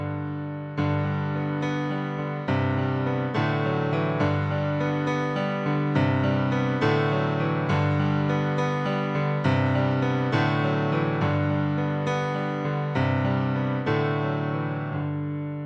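Solo piano plays the third-verse melody of a cover song, a steady phrase of sustained chords with melody notes on top, about a dozen clear strikes at even pace, close and uninterrupted.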